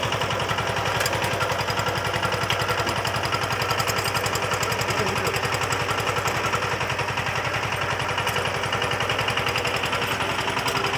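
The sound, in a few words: VST Shakti 130 DI power tiller engine running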